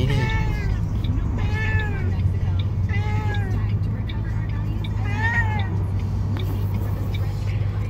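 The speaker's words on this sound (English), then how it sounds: "Just a minute and something, maybe 2 minutes of this thing meowing." A cat meows repeatedly inside a car, with about five drawn-out, wavering cries at irregular intervals over a loud, steady engine rumble and road noise.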